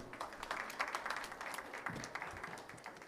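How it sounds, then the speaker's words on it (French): An audience at an innovation awards presentation applauds, a soft, fairly distant patter of clapping running evenly for a few seconds. "On peut vous applaudir."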